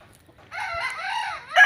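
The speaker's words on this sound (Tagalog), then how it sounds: "Tumitilaok po sila." A backyard rooster on a Philippine farm gives a single short crow, close and clear, against a quiet background.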